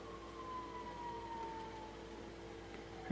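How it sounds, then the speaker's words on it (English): A fire truck siren is heard outdoors from inside. It is a faint, distant wail with a slowly falling pitch, held steady for a few seconds as it passes by. "Sounds like a fire truck."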